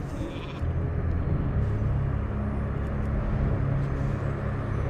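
A mage's Polymorph spell in World of Warcraft turns an enemy into a sheep, which bleats several times over a low, steady game rumble. A few sharp spell effects cut in briefly, and no one speaks.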